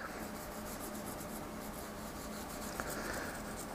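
An all-lead pencil shades a background on paper in continuous rapid back-and-forth strokes, a close, steady scratchy rubbing with no pauses and no voices.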